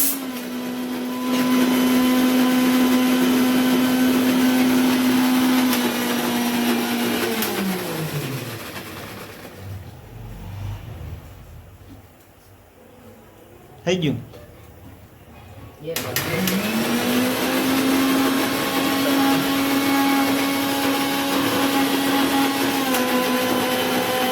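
An electric mixer grinder whirs loudly at a steady pitch, winds down, pauses amid clatter, then spins up again and runs on, with voices talking nearby.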